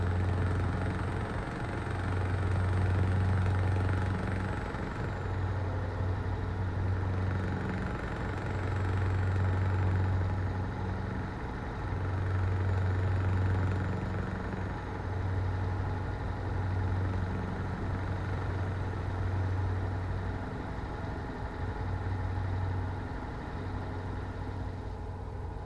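A truck's engine in Euro Truck Simulator 2 drones in a steady low hum that swells and eases in repeated waves as the throttle opens, with a faint high whine rising and falling.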